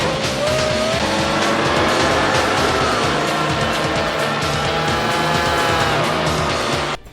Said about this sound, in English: He skidded off the tarmac into the kitty litter.